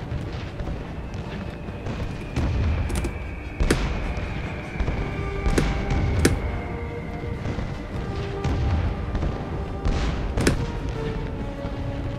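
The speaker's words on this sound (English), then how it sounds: "We're gonna do a cheeky bombing here." Carpet bomber's bombs going off in War Thunder, a run of heavy booms and sharp blasts over a constant engine drone, with explosions striking every second or two across the whole stretch.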